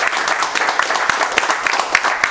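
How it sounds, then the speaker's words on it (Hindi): Loud, close applause from an audience at an Android CPU competition, dense and continuous with a few sharper individual claps standing out. "एक बार जोरदार तालियां।"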